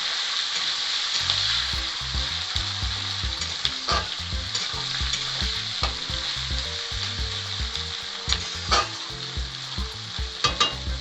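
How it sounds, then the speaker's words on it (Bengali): Onions fry in a pan for a Malabar spinach and fish-head dish, a loud, continuous close sizzle with repeated scraping and knocking as a spoon stirs them, no talk over it. "পেঁয়াজটা একটু লাল লাল করে ভেজে নেব।"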